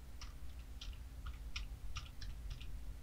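Faint, quick keystrokes on a computer keyboard, about eight light taps at an irregular rhythm over a low steady hum.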